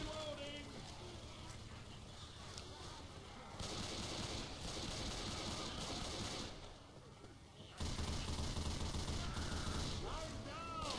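Dense, sustained gunfire from a mounted machine gun in the zombie shooter Left 4 Dead 2, a continuous rattling barrage that grows louder in bursts over game noise and chaotic action, with brief voices calling out.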